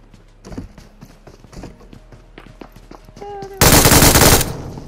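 Gunfire in a Free Fire style mobile shooter game, scattered sharp single shots followed by a loud sustained burst of rapid automatic fire near the end, with people talking over the game sounds.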